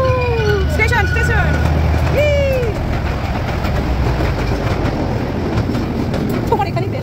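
A small tourist train runs on rails in America with a loud, continuous rumble and rattle, broken by high, sliding wheel squeals and whistle-like tones. Voices can be heard over it.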